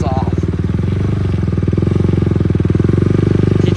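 A KTM Duke 200 motorcycle fitted with an Akrapovic exhaust rides over a rough, muddy road, its engine throbbing loud and steady with a rapid pulsing beat throughout, with a voice speaking over it.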